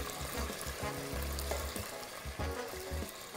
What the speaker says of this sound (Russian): сейчас я буду отправлять все продукты, можно сказать, одновременно, и все это будет шкварчать